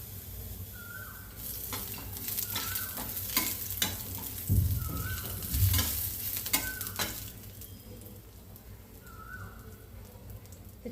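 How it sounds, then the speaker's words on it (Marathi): Coconut frying in a pan while being stirred, a soft, fairly quiet sizzle with bursts of scraping and a few louder knocks in the middle. "थोडं फ्राय करू."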